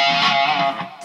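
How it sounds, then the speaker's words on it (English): Electric guitar driven through a Matchless amp into a mid-range, honky distortion, a single sustained chord ringing thick and loud before it starts to fade. "I like more of a mid-range kind of honky distortion sound"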